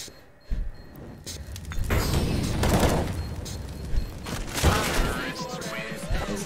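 Gunfire crackles in a tense round of a first-person shooter, with loud bursts and a sharp opening shot amid game sounds and sustained in-game noise.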